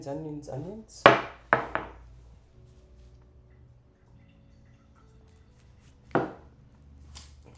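A knife chops onions on a cutting board in a few sharp, close thuds, three in quick succession and then one more after a pause, while a voice speaks briefly at the start.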